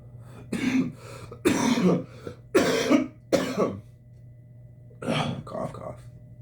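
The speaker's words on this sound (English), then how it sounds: "Cough, cough." A person coughs and clears their throat in several rough, separate bursts with short pauses between, close and fairly loud, against a quiet low hum.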